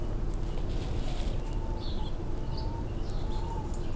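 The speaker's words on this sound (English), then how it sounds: "And that is a house finch." A house finch chirps in short, bright calls at moderate distance outdoors, a few scattered notes over a steady background hum with soft cooing nearby.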